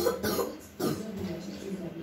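A baby coughs and clears its throat at home: two or three short, close coughs with background noise between them.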